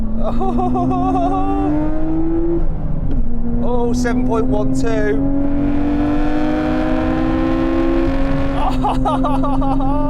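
A turbocharged Nissan GT-R R32 launches hard, its engine note climbing steadily through long pulls with gear changes, loud and close, while someone speaks briefly over it.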